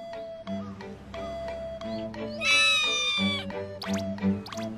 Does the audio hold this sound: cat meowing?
yes